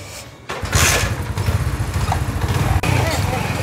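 Motorcycle engine starting outdoors, a sharp ignition burst followed by a loud, pulsing idle that keeps running; a voice talks faintly underneath.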